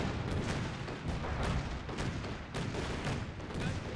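An elite artillery barrage in a real-time strategy video game, with repeated booming impacts and dense crackling fire landing in quick succession, loud and continuous across the whole stretch.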